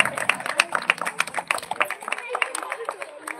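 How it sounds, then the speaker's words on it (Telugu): Audience at a cultural festival prize-giving ceremony applauds, a dense wash of clapping hands that runs steadily throughout with a few sharper claps standing out, no voices over it. "చప్పట్లు గట్టిగా."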